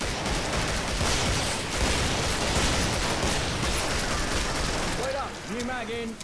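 Dense, relentless gunfire in the video game Killing Floor as players shoot creatures, with overlapping rapid shots throughout and a short burst of tonal in-game sounds near the end.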